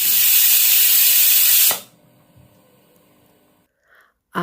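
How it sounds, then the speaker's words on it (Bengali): A loud, steady hiss of steam blasting from a pressure cooker whistle while cooking mutton curry, for nearly two seconds, then cutting off abruptly into quiet kitchen background. "এখানে আমি চার পাঁচটা হুইস দিয়েছি প্রেশার কুকারের"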